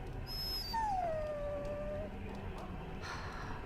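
A dog in the video game Dragon Age Origins lets out a single drawn-out, falling whimper, a thin whine that tapers off over about a second against a steady background hum.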